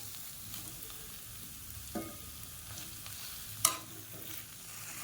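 Dried fish frying with softened onions in a pan for a dry fish curry, a soft continuous sizzle broken by two brief clinks of a spoon against the pan, and a faint low hum beneath.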